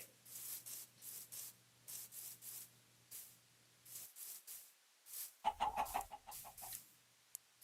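Chickens in the video game Minecraft give a short cluck amid repeated soft scraping footstep-like sounds, all fairly faint.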